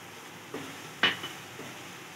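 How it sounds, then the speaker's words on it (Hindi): Spatula clinks and scrapes three times in a pan where ginger, garlic, cumin, crushed chili and salt fry for tawa kaleji, over a faint, steady sizzle. "और इसको थोड़ा फ्राई कर लेंगे।"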